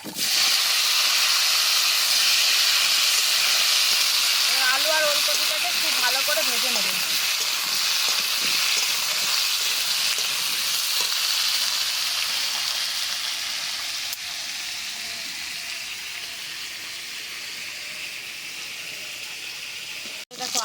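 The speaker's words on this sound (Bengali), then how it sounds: "এবার দিয়ে দিচ্ছি কেটে রাখা আলু আর ফুল ওলকপি" Cubed potato and kohlrabi hiss and sizzle in hot oil tempered with dried red chilli and whole cumin, a loud steady frying noise that eases slightly toward the end, with a brief voice early on.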